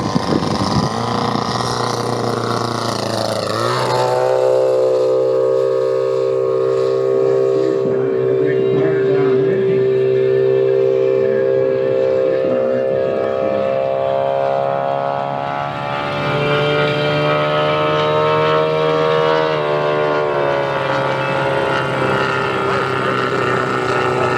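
Deep, steady propeller drone of the world's largest RC P-47 model warbird flying at about 1300 RPM, holding a loud sustained tone with a pitch shift as it passes, heard outdoors at an airshow.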